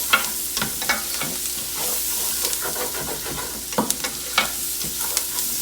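Parsley and garlic sizzling in a single pan over high heat for jambalaya, a steady close frying hiss with scattered crackles and pops and light stirring scrapes, no voices.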